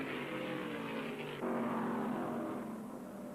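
Stock cars race side by side through slower traffic at the 1974 World 600, a steady loud engine roar whose pitch shifts abruptly as the cars pass, with no voices.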